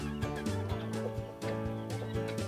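Guinea fowl call on a farm with repeated rhythmic cackling and clucking, several birds overlapping nearby in a steady chattering stream.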